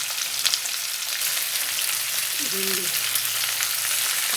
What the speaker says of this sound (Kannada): ಚಟ್ಪಟ ಅನ್ನೋ ಟೈಮಲ್ಲಿ ಈರುಳ್ಳಿ ಹಾಕ್ಕೊತೀನಿ